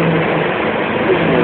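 A car with a 1.5-litre engine, stranded in floodwater and being lifted out, runs with a loud, steady engine roar heard close and unbroken for a moment.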